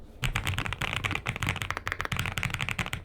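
Rapid, dense clicking of typing on a hefty Lofree mechanical keyboard with a solid aluminum case, heard up close and steady for about three seconds with no talking.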